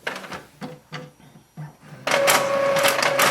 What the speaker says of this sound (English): Once your print head moves, we will unplug the printer.